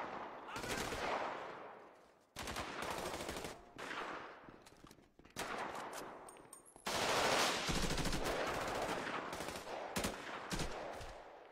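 Automatic and machine-gun fire in Grand Theft Auto, loud sustained bursts broken by brief pauses, with team chatter faintly underneath.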